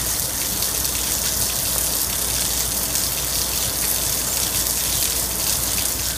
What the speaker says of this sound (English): It's raining nonstop.